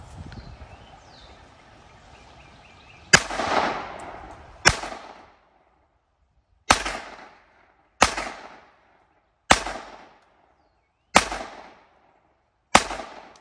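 Sharp gunshots crack one after another at irregular intervals during outdoor target practice, each followed by a brief echoing decay, with quiet pauses between.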